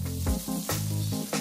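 A steady crackling sizzle of sausages frying in a hot pan, with bursts of popping spattering throughout.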